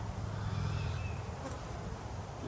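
Honey bees buzz at close range around an apiary hive, a dense, continuous hum with individual insects whining past, and no talking.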